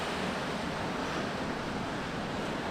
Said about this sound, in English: Man, it's a beautiful beach